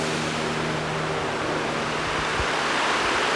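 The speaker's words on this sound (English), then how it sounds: "This is like a very narrow little waterfall." A very narrow little waterfall flows over rock in steady, close broadband rushing, with low rumble underneath and no speech.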